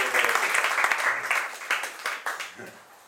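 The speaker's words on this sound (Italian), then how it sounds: "C'è un applauso per Antonio." An audience at an evening talk breaks into applause, dense clapping that is strong at first and then thins and fades in uneven bursts over a few seconds.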